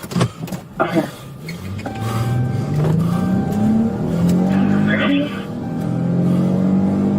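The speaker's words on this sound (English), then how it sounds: "And then you start the car, go." A police cruiser engine starts and revs, then drives off with a rising, accelerating hum, loud and near, with bystanders' voices and shouting under the engine early on.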